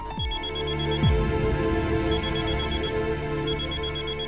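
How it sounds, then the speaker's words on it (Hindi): A steady electronic ring repeats, with a tonal rising and falling warble over a low hum, with no talking. "बैंक वालों के फोन आने शुरू हो गए"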